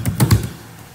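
Three or four quick keystrokes tap on a computer keyboard, close and crisp, then the sound fades into quiet.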